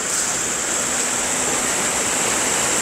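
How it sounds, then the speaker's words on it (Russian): A small waterfall in the Harz mountains in winter pours with a constant, even rushing roar, loud and close, with no voices. "Такой нормальный, вполне приличный водопадик"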